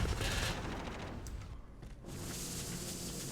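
Sustained rapid automatic gunfire rattles through a competitive video game scrim match, loud and continuous, briefly thinning out midway before resuming at full intensity.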